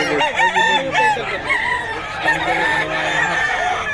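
A stag gamecock crows close and loud in repeated rising calls, with clucking and other fowl noise around it on a rooster farm.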